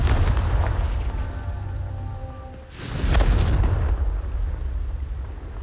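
A Confringo fire spell in the Hogwarts Legacy game bursts with a loud booming explosion that rumbles over a steady roar of in-game ambience, with no voices.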